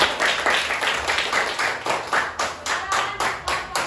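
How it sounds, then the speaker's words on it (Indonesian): Students in a classroom clap for the first group, a rhythmic, fairly synchronized burst of hand claps repeating at a steady beat, moderately close and sustained for several seconds. "Terima kasih kelompok 1, tepuk tangan untuk kelompok"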